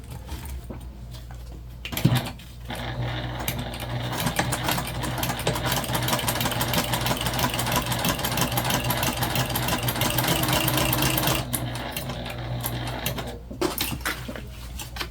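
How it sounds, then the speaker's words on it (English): A sewing machine stitches through backpack fabric in one long, steady, loud run of rapid mechanical whirring, with brief quieter pauses at the start and end. "These fabrics have been awesome to sew through."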